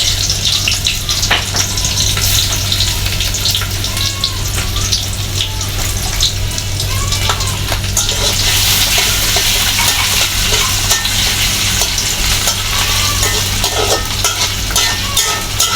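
Onions and dried red chillies fry in a pan, giving a loud, continuous crackling sizzle close by with faint watery hissing mixed in and no talking.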